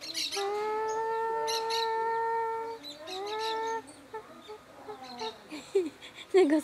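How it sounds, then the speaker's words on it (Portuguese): Hen in a home vegetable garden giving a loud, close, drawn-out cackle of long sustained calls, then a series of shorter broken clucks toward the end. "Gosto desse barulhinho que a galinha faz?"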